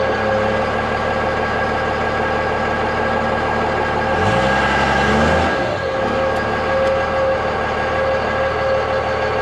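A stock Cummins diesel truck engine with a 180 HP tune idles loudly, then revs hard for about two seconds in a rising and falling surge while the tires spin, before settling back to a steady rumble.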